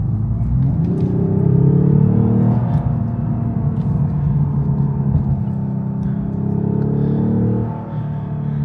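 A synthesized engine drone played through the speakers of a 2026 Lexus IS350, with heavy low rumble filling the cabin, rising and falling slightly in pitch, steady and loud throughout.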